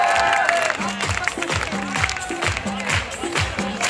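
A crowd at a Sindhi Culture Day celebration in Hyderabad claps in steady rhythmic unison alongside music and singing, a dense, close sound that keeps going throughout.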